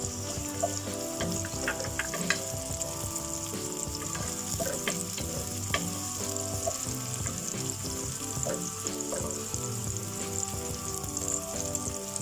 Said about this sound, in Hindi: अब इसमें डालेंगे ओनियन चॉप किया हुआ।